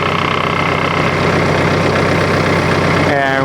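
A tractor engine running at a steady, loud idle close by, a constant low rumble that shifts slightly in pitch near the end, with a voice faintly underneath.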